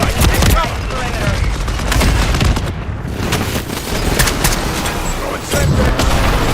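Precision airstrike explosions in Wuthering Waves: a dense, continuous barrage of loud booms and rattling blasts, close and heavy, barely easing over several seconds.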